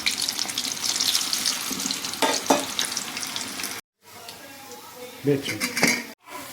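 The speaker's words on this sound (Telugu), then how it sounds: "ఫ్రై చేద్దాం." Cashew chicken kebabs frying in oil over low to medium flame, a crackling sizzle with stirring scrapes and pan clatter, broken by two short silent gaps, with a voice talking faintly over it.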